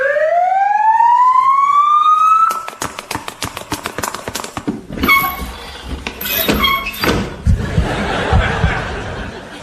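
A siren winds upward for a couple of seconds, then breaks into rapid clicking and clattering with bursts of noise and laughter-like sounds behind, loud and busy throughout.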